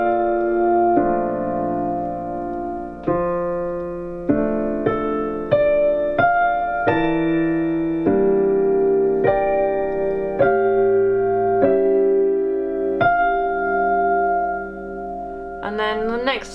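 Two-handed piano rendition of a waltz from Howl's Moving Castle, a steady melody over a supporting chord accompaniment, played solo and close with clean note attacks and sustained overlapping tones.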